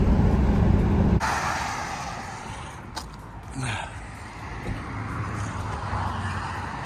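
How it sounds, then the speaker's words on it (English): A Volkswagen cruising down Highway 5 in British Columbia, a steady low road rumble and tyre noise from inside the cabin, loud at first and then settling into a softer continuous drone. "We're heading down the highway."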